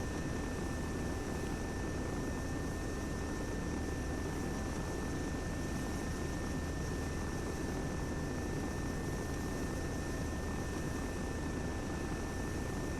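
A steady, faint helicopter drone from the video game Arma 3 hums continuously with a constant high whine on top, no voices, unchanging throughout.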